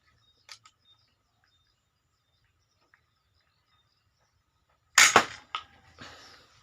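A crossbow fires a bamboo dart with no line attached, giving one sharp, close snap followed by a short rattle. Faint small clicks come before it in near silence.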